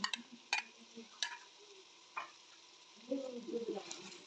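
Tomato paste added to garlic, ginger and chili paste frying in a pan, soft sizzling with a few sharp stirring clicks and scrapes, faint and close.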